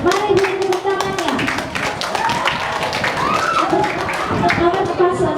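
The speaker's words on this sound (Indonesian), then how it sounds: "Mari beri tepuk tangannya." Clapping from an audience at a school student council candidate debate, a brisk scattered patter of many hands close by, with voices speaking over it throughout.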